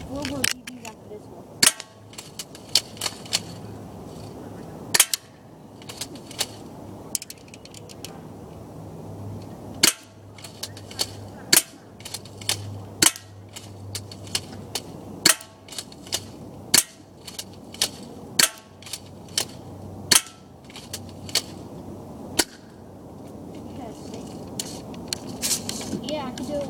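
A Crosman Stinger S32P airsoft gun fires BBs as sharp, snappy pops spaced roughly one to two seconds apart, about fifteen shots in all. A person talks over a steady background hum between the shots.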